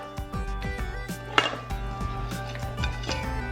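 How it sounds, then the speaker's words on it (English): Around eight cut-up apples tumble into a bowl for an apple pie, with close clattering knocks of fruit pieces against the bowl and one sharper bump partway through. "Now I'm gonna add my apples to the bowl."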